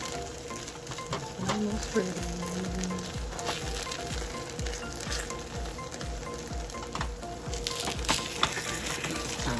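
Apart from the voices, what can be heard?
breakfast sandwich frying in a mini pan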